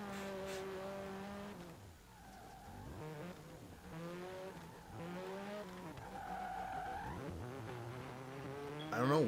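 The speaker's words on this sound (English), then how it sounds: "I don't know what kind of engine is in that damn truck" Engine of a truck in the Forza drift competition game revving continuously with harmonic pitch sweeps and tire squeals from skidding, loud and steady throughout.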